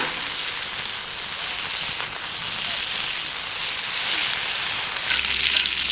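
Eggs sizzle and fry steadily on an antique Wagner Ware "Fat Free Fryer" cast iron griddle, a close, continuous hiss and crackle of hot fat with no talking.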